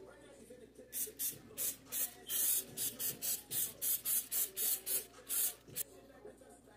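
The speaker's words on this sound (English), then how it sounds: "we're gonna lay everyone down, spray them with a little bit of oil," Oil spray from a can misted over bacon-wrapped jalapenos stuffed with three kinds of chorizo and ghost pepper: about a dozen short, crisp hissing bursts in quick rhythmic succession. The spray is close and distinct against a quiet background.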